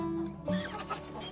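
Backyard chickens in a coop, with a brief close cluck among soft fowl murmurs, fairly quiet and with no talking.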